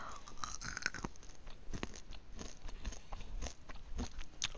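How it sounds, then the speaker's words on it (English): M&M's candy being chewed close to the mic gives a run of quick, irregular crunches and bites, crisp and fairly faint, with no talk. "And the crunches is because I'm eating M&M's"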